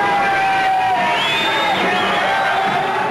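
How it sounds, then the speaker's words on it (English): A street crowd of hippies cheers and celebrates on a sunny day in the 1960s, a dense wash of voices, whoops and shouts that stays loud and continuous throughout. "in the street below, a crowd of hippies celebrates the sunny day"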